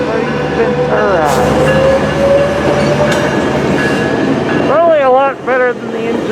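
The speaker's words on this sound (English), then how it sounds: "Great train now leaving for East Ventura." A train rumbles steadily with clattering wheels and rising tonal whines, ending in wavering squeals as it pulls out of Camarillo station, loud and close.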